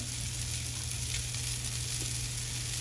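Chopped onion sizzling in a hot pan while making Spam fried rice, a steady, loud frying hiss with no talking.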